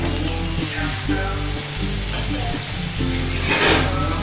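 Snake gourd, potato and onion frying together in a pan give a steady, close sizzle with a dense crackle, broken by a few soft spatula scrapes.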